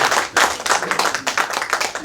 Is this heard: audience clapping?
yes